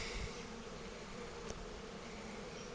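Honeybees buzz steadily around an open Dadant hive during an inspection, a soft continuous hum of many insects close by, with no talking.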